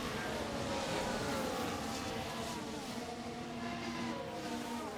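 Formula 1 race cars in the Brazilian Grand Prix sprint give a steady, continuous engine roar with high whining tones, sustained and fairly loud throughout without clear individual passes.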